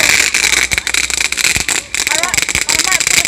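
Fireworks crackle and pop at a bonfire night gathering at an observatory, a dense run of sharp bursts and crackles, loud and close, with people talking over them.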